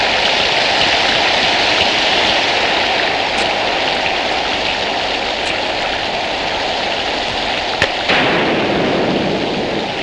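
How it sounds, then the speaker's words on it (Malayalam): Heavy rain falls steadily in a dense, continuous hiss, loud and close, with a few brief sharp knocks but no voices. "മഴ ഇപ്പോഴൊന്നും നിൽക്കുന്ന ലക്ഷണം കാണുന്നില്ല."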